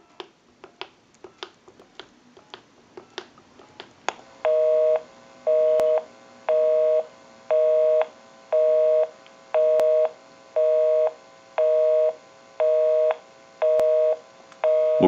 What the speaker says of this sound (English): We can call my number and it'll be busy.